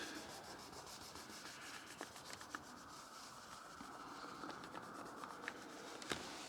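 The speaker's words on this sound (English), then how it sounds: "have a go at these tiny scratches with some light rubbing to see if you can remove the scratch" A cloth lightly rubs tiny scratches on the paintwork of a leased electric car, making a soft, steady back-and-forth swishing. The rubbing is quiet and close, with a few faint ticks scattered through it.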